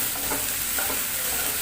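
Onion paste and chili powder frying in hot oil in a pan for an egg curry, a brief close burst of sizzling with a stirring scrape, no talking.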